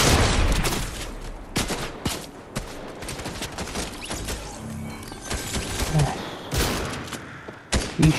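Gunfire in Fortnite during a PS5 Trio Squads match: repeated sharp shots and bursts scattered through the clip, with chatter from players underneath.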